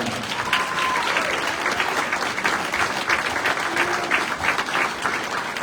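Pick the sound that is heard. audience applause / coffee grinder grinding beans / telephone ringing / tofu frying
audience applause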